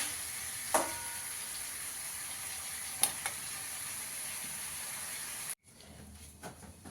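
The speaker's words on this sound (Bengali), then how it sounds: "গ্যাসের আঁচটাকে বাড়িয়ে একটু ভেজে নেব ভালো করে" Chicken fries in a pan over a raised gas flame, a steady close sizzle with a few sharp stirring clinks, cutting off abruptly near the end to a quieter hiss.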